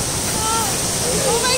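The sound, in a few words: water flowing at an amusement park water ride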